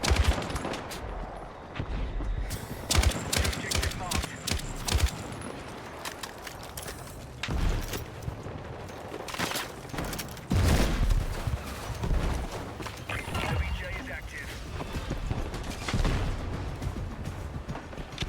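Gunfire in the multiplayer video game Battlefield 6, repeated loud bursts of automatic fire and single shots mixed with footsteps and battle noise, continuous and busy throughout.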